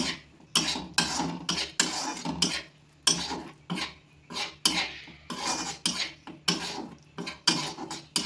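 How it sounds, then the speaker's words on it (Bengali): A spatula stirs curry with Kashmiri chilli powder in a pan, making loud, close, rhythmic scraping strokes about twice a second that run steadily throughout with only brief gaps. "এটা দিয়ে ভালো করে নেড়ে কষতে থাকবো।"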